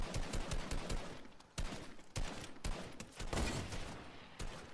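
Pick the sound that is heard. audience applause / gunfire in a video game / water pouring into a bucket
gunfire in a video game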